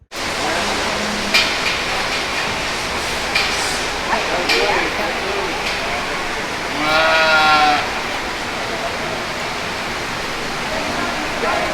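A sheep bleats a few times amid a noisy, crowded space at the Kentucky State Fair, with a steady roar of background din and distant voices.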